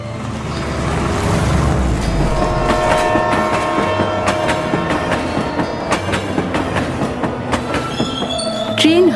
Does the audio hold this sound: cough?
no